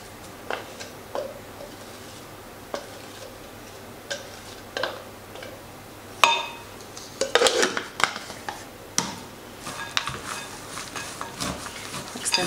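Fruit, nuts and seeds tossed together in a mixing bowl, with scattered clinks and taps of a utensil against the bowl that grow busier and louder toward the end, no talking.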